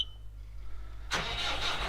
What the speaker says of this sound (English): start the tractor up, see if that hose leaks before I put it all the way through.